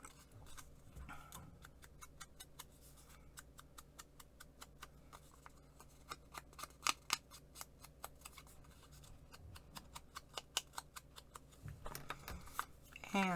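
Scissors snipping along the edges of paper for a junk journal, a run of quick, close, crisp cuts that grows denser and louder toward the end.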